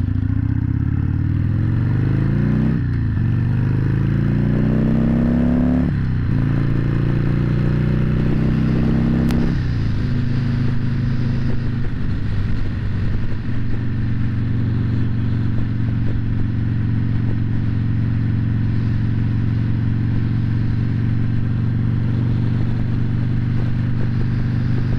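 A Sportster 883 motorcycle on a short morning ride, its engine pulling up through several gear changes in the first ten seconds before settling into a steady, close, loud cruising drone with road rumble. No one speaks.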